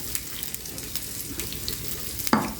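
Cumin seeds and crushed garlic fry in hot oil for an Andhra-style gongura mutton curry, giving a soft, steady sizzle with light crackles and one sharper pop near the end.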